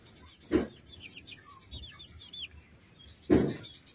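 A free-range country chicken kept as a pet gives a few soft clucks and short calls, with two sharper louder squawks about three seconds apart over a quiet outdoor background.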